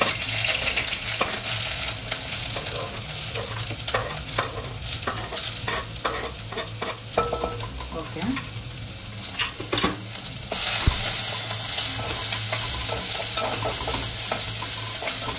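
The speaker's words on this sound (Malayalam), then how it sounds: "വഴറ്റിയിട്ട് ജസ്റ്റ് ഒന്ന് കളറ് മാറി വന്നിട്ടുണ്ട്" Onion, garlic, green chilli and ginger sauté in a pan over a medium flame for a sardine curry: a steady, close sizzle with frequent stirring scrapes throughout, with no talking.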